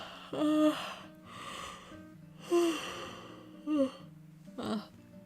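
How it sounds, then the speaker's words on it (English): Several drawn-out yawns from a streamer during a relaxed chat, each a breathy rise into a voiced, sighing tone. They come in separate bursts spread across the moment, close and fairly soft, with no talk. "Sorry for the yawns at the end."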